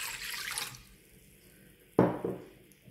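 Water poured into a bowl to start a bread dough, with a soft splash early on and a sharper, closer pour and trickle about two-thirds through, fading out.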